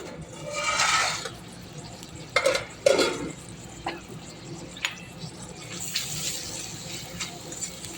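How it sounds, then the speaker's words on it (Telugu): A short pour of water splashes into a pot of onion curry, followed by a few clanks of cookware and soft sizzling nearby. "అందువల్ల కొద్దిగా వాటర్ పోస్తున్నా"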